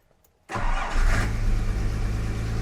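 A Jaguar engine with the choke pulled fires up at once after a brief quiet lead-in, then settles into a loud, steady, close-up run with a rich low rumble.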